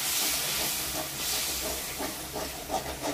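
Water poured into a hot kadai of frying spices on a gas stove, giving a broad, steady hiss of steam and sizzle that fades a little over the clip, with faint clatter and no voices.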